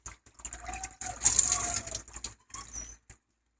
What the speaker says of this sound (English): Pour some more water down in.